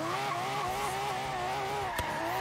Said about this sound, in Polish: Teraz bezręcznego próbowałem go wprowadzić w ten drift.